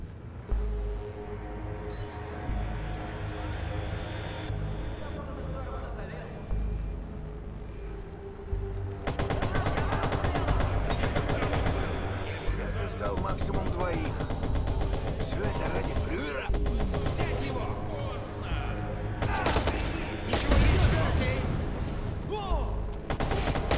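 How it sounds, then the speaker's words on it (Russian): Dense, rapid gunfire from guns mounted on security cameras in the video game Watch Dogs: Bad Blood rattles almost continuously for a long stretch, mixed with mechanical clatter and occasional voices, loud and close. "Камеры, Рэй! Я установил на них пушки!"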